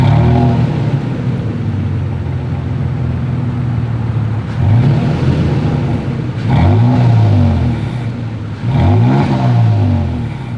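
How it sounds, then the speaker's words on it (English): A 2023 Toyota Tacoma's exhaust idles steadily near the microphone, then rises in three quick revs that climb and fall back, each louder than the low idle rumble beneath. "As always, here is that exhaust clip."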